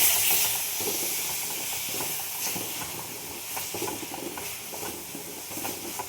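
Steam hisses steadily from a pan of frying broad bean paste just after the lid comes off, a broad, close, continuous sizzle that fades slightly, with faint stirring clicks and no talking.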